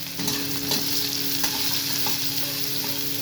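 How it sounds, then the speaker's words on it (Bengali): Chopped onions sizzle in oil with whole cumin seeds and bay leaf, a constant close frying hiss with light stirring for a few seconds and no voices. "পেঁয়াজটাকে আমি আস্তে আস্তে করে ভেজে নেব"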